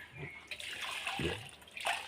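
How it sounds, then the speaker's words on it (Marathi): Water is poured in short gushes into a cooking pot of fish curry, splashing and gurgling in a few bursts up close. "अजून पाणी घालूया"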